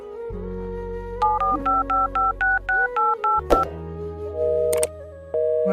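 Rapid series of about ten telephone keypad dialing tones in an even rhythm, followed by a few longer phone tones, clear and close over a low background hum.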